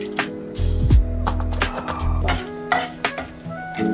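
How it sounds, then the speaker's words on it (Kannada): Chana dal frying in hot oil, stirred with a spoon in a pan, giving soft sizzling and intermittent scraping and clinks of utensil against metal, close by. "ಎಣ್ಣೆ ಸ್ವಲ್ಪ ಬಿಸಿ ಆಗಿದ ಮೇಲೆ ಫಸ್ಟಿಗೆ ಇದು ಕಡಲೆಬೇಳೆ 1 ಸ್ಪೂನ್"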